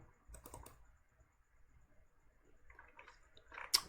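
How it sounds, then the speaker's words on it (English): A few scattered computer keyboard key presses, including a delete key tap, sound close and fairly quiet, with a sharper click near the end amid soft desk noise. "so I'll just delete this one using the delete key on my keyboard"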